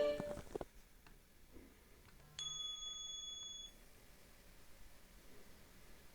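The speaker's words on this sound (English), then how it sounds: "So here you'll see your iPhone ringtones" An iPhone ringtone plays on a Samsung Galaxy S25 Ultra: a short tap sounds, then a clear bright electronic chime holds for about a second before cutting off, faint and clean in a quiet room.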